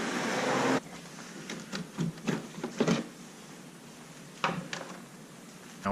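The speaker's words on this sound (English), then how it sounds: "we're just going to go ahead and remove these clamp clips" Clamp clips are removed under the hood of a 2018-2019 Mustang GT: a loud whooshing burst cuts off, followed by a series of close plastic clicks and snaps, then quieter fumbling.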